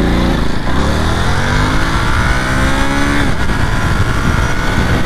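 A 2023 Ducati Monster A2 motorcycle at full throttle, its engine note rising steadily through the revs in a loud, close, continuous pull, then dropping briefly as it shifts and climbing again.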